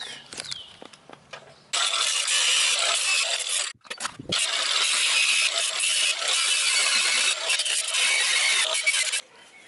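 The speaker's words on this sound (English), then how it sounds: "the next step is to grind away that right there" Angle grinder cutting metal off the axle of a Chevy Astro van, two long loud harsh bursts broken by a short pause, with a few lighter clanks at the start.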